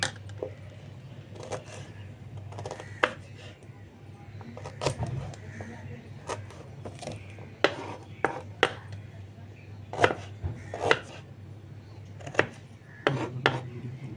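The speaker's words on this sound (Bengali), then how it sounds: "এবার আমি আদাটা কুচি করব।" Ginger being finely chopped with a knife on a board, irregular sharp close knocks in scattered bursts over a low steady hum, with some talk in the background.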